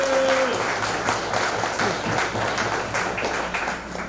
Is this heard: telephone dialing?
no